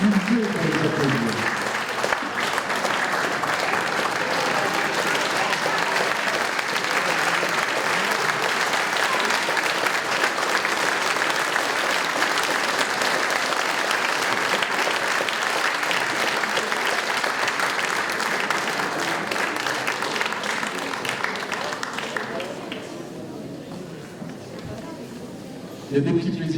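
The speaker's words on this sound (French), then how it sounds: "Est-ce que je peux vous demander de vous lever pour les applaudir?" At a mayor's New Year address, the audience rises for a long standing ovation, sustained dense clapping that holds for over twenty seconds before tapering off.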